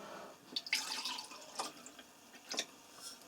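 Filtered cognac poured into sugar syrup for homemade caramel colouring, heard as faint close liquid trickles and drips in uneven bursts, with no talking.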